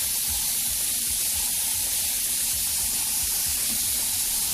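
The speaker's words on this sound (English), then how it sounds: "We can go and we can build up our nice wide spray first." An unbroken airbrush spray hisses evenly throughout, a soft wide rush of air with a faint low rumble underneath.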